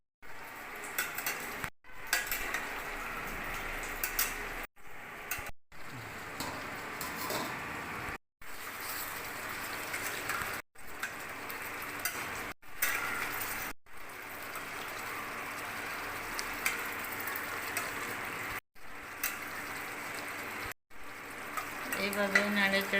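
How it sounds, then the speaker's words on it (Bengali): Chicken pieces sizzle and fry in a pan in a home kitchen while being stirred and pressed, a steady broadband frying hiss with scraping stirs, broken by several short silent gaps. "এইভাবে নাড়ে চড়ে চাপা দিয়ে দিয়ে মাংসটাকে ভেজে নেব"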